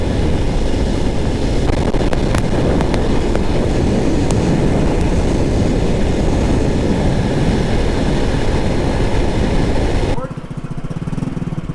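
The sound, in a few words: loud scooter exhaust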